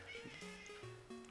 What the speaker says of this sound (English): Miri, look at you meowing at me